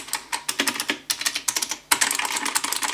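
Typing on a Cooler Master MasterSet MS120 keyboard with clicky keys: rapid, crisp keystrokes close up in an irregular rhythm, a brief pause, then another quick burst of clicking.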